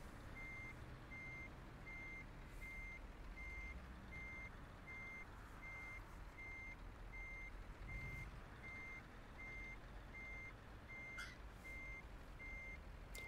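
Steady, evenly spaced truck reversing beeps in a trucking video game repeat throughout over a constant low engine rumble, with a faint hiss of air brakes near the end.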